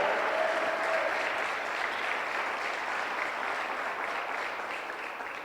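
Steady applause from a congregation during an online church service, a dense wash of clapping held at even loudness for several seconds, fading slightly toward the end.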